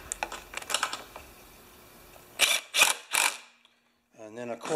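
Hand ratchet working bolts loose on a Powermore lawn mower engine, a run of quick clicking strokes followed by three louder rasping bursts, then a short pause before a voice speaks.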